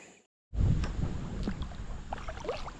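Kayak paddling on the Sassafras River, a Chesapeake Bay tributary in Maryland: after a brief silence, steady water and hull noise with soft paddle splashes and light wind rumble continue close by.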